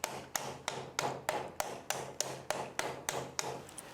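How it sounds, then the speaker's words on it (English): Sheet metal being hammered over a forming buck to shape a pedal car radiator shroud, with about eleven evenly spaced sharp metallic blows ringing close up in a steady rhythm. "hammer and we go over that to really get it to form and sit quite tight up against the forming buck"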